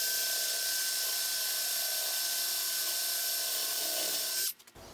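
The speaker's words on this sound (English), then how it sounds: "I didn't have a 1-inch hole saw, so I'm going to be using a spade bit." A power drill with a spade bit bores a door knob hole through an interior door, giving a steady high whine for several seconds that cuts off sharply near the end.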